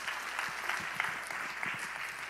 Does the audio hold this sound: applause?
yes